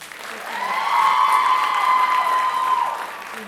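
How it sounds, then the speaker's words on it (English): Audience applause at a Bharatanatyam arangetram dance recital, a steady wash of clapping that swells after the first second, holds loud and full, then eases slightly toward the end, with a faint sustained musical tone running beneath. "round of applause."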